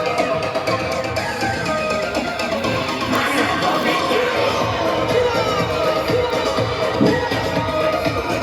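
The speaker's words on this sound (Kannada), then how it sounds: "ಎಲ್ಲರೂ ಚಪ್ಪಾಳೆ ತಟ್ಟುವುದರ ಮೂಲಕ ಶಾಸಕರನ್ನ ಅಭಿನಂದಿಸಬೇಕು ಅಂತ ನಾನು ಕೇಳ್ಕೊಳ್ತೀನಿ" A village crowd at a road and public-works launch in K. Gowdagere, Mandya, applauds the MLA with a dense, continuous din of claps, cheers and mingled voices, fairly loud and unbroken.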